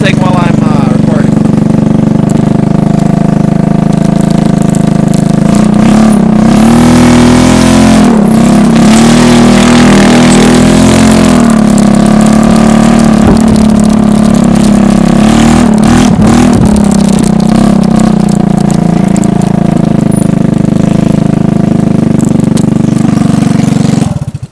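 A three-wheeler's engine runs after being started with its electric starter, giving a loud, steady, rough drone with some rises in pitch. Someone talks over it now and then.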